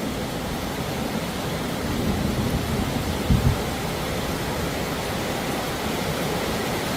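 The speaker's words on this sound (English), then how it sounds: "Slowly but surely, the storm's rolling in again." A thunderstorm rolling in, heard as a steady, loud wash of rain-like noise with a brief low rumble of thunder partway through, with no talking over it.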